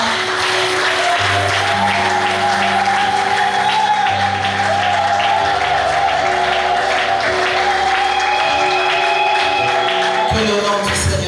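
A church congregation applauds and cheers loudly and steadily for several seconds, dense clapping under a sustained organ-like musical drone, with the noise cutting off abruptly near the end.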